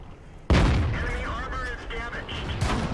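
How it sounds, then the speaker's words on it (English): Artillery fire in the World of Tanks tank battle game: a sudden heavy boom, followed by a rumbling tail and a second hit near the end, under a voice talking. "And then he gets pounded by artillery."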